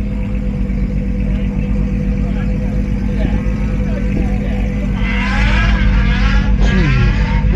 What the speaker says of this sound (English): Doing a burnout on the bike sounds insane.